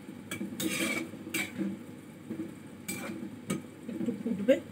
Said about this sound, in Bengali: জল দেবো, ভালো করে নাড়াচাড়া করে দেবো।